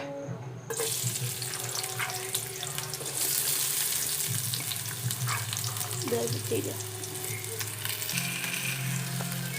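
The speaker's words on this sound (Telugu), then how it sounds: "ఉల్లిపాయలు వేసేసాక కొంచెం బ్రౌన్ కలర్లో కాలాలి" Onions frying in hot oil in a home kitchen pan, a steady close sizzle with brief splashy bursts and some clatter, no talking.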